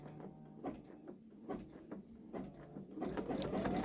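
A Babylock Solaris Vision embroidery machine stitching across a quilt, with a quiet, rapid mechanical patter of the needle in a steady repeating rhythm, close and soft.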